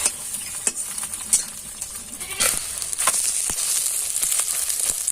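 An egg omelette frying in a pan, with soft sizzling under scattered scraping and stirring clicks and a few sharp knocks of a utensil against the pan, no voices.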